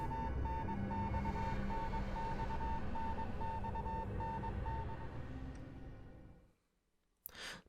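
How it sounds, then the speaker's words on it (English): Evenly pulsed electronic beeping in the horror video game Death Mark, steady and moderate over a low droning background before it cuts off into near silence. "Beeping suddenly stops."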